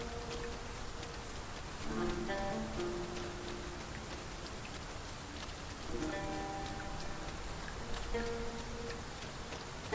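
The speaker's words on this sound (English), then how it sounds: "It is raining." Steady rain falls in the video game Dragon's Dogma 2, a dense continuous patter of drops with faint tonal game ambience underneath and no talk.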